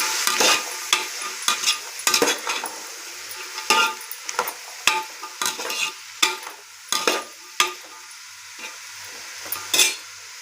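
Vegetables sizzle in a hot pan while a utensil stirs and scrapes at irregular intervals, producing clattering bursts over a steady frying hiss.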